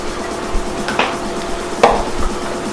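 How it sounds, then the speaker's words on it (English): A knife cuts through sweet peppers on a board: two crisp thumping chops about a second apart, close up, with faint kitchen clatter in between and no talking. "Chop the ends off, put out the middle, cut it in half."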